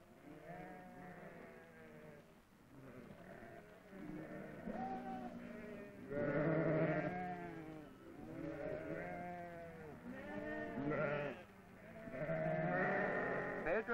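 A flock of sheep being driven to fresh pasture across dry land in 1960s Spain, bleating continuously for a sustained stretch, with many overlapping close and distant calls rising and falling.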